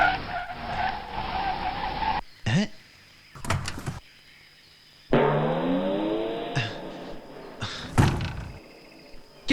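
A brand-new car worth 80 lakh skids and then stalls in a Bollywood comedy film scene: a long screeching skid, a couple of thunks, then another extended skid with sharp knocks, loud and close.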